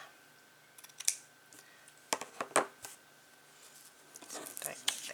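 Scissors cut white fabric in a few quiet, close snips and crisp blade clicks, separated by soft handling rustle.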